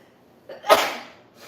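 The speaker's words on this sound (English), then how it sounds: "I feel like I'm gonna sneeze again." A single close sneeze bursts out after a short breathy intake and trails off, sounding during home cooking of veggie burgers and tofu scramble with curry and ground pepper in the air.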